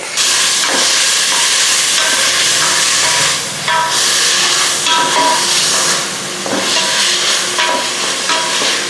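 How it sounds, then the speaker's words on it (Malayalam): About four tablespoons of coconut oil sizzle loudly in a pan while tomato rice is made, a dense continuous hiss with scraping stirs and brief dips, close up. "ഇവിടെ ഞാൻ ഏകദേശം 4 table spoon of coconut oil ഒഴിച്ചു കൊടുക്കുന്നുണ്ട്."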